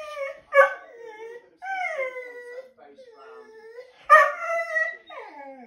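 A springer spaniel produces vocal sounds of drawn-out whining howls and whimpers, rising and falling in several separate phrases, close and clear, with a couple of sharper yips among them.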